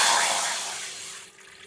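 Water is poured into a pan set on a stove while making rice-flour kozhukattai, a loud splashing pour that fades over a couple of seconds.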